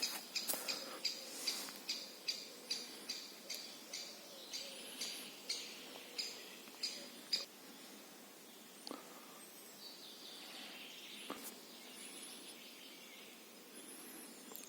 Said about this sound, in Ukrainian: А тут же пташки іншим голосом співають.